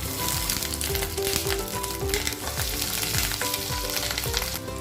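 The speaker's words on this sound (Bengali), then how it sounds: "তেলটা গরম হয়ে গেছে, এখন আমি ডিমটা দিয়ে দেব" Rohu fish roe frying in hot oil in a pan, a dense, steady sizzle and crackle that carries evenly and loud for the whole stretch, close up, with no voices over it.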